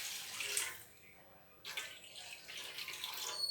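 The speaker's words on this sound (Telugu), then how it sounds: "ఇప్పుడు మళ్ళీ అదే బాండీలో మనం వాటర్ తీసుకొని" Water poured into a frying pan while making semiya kesari, a hissing, splashy stream that pauses briefly and resumes, quiet and close.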